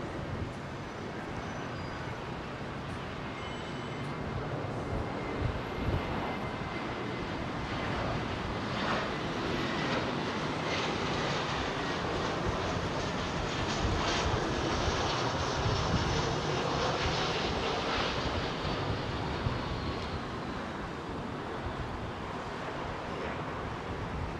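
An Aer Lingus jet airliner on approach to London Heathrow Airport gives a continuous, fairly distant engine roar with a broad rushing wash that stays steady and unbroken throughout, with no one talking.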